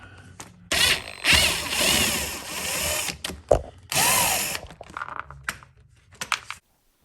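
A power tool whirs in short bursts while removing bolts from the plastic front cover of a Tracker 600 ATV, with several separate spin-ups and pauses and clicky handling noises between them.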